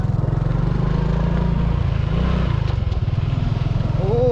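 A motorcycle engine runs steadily on a beach at the seashore, its wheels sunk in soft sand. It makes a loud, continuous, throbbing drone with a slight change in pitch partway through.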